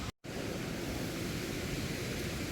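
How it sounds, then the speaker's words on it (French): A river flowing just behind a caravan in a warm, tropical-feeling hollow beside a natural pool, heard as a dense, continuous rushing hiss that stays loud and even throughout, broken only by one very brief dropout near the start. "T'entends le bruit de la rivière derrière"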